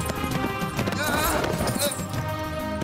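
Horses gallop in a fast, rhythmic clatter of hooves close by, mixed with dramatic music and a shout or two over the chase.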